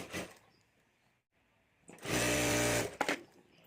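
A sewing machine stitching the lining of a jewelry bag pocket: a faint short whir at the start, a pause, then a loud steady mechanical run of about a second that stops abruptly with a final clunk.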